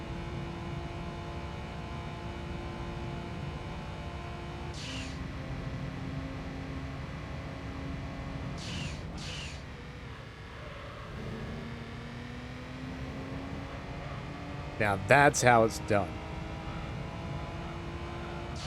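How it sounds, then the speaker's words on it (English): A car engine in the racing video game Gran Turismo 3 drones steadily with shifting pitch, holding a continuous hum; a brief busy burst comes near the end, and a voice speaks briefly. "You can hear like the rattling of this car's engine"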